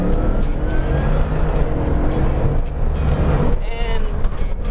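A Bugatti Veyron 16.4 Grand Sport Vitesse engine roars close by as it accelerates hard at full throttle, its rising drone continuous under someone speaking.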